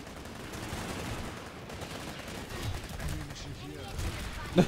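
Sustained automatic gunfire in the video game Planetside, a whole magazine emptied in rapid, fairly faint bursts under background game noise.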